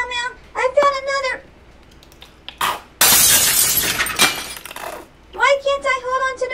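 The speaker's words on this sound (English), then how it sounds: "They break and shatter very easily." A ceramic mug dropped and shattering, a loud bright crash with scattering shards lasting a couple of seconds, framed by a cat's meows before and after.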